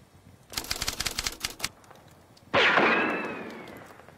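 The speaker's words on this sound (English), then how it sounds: "open fire at the exposed assault section with accurate bursts" Staccato machine-gun bursts from a tabletop Bolt Action battle report soundtrack, a rapid rattling volley of shots followed by a loud whooshing blast that slowly fades.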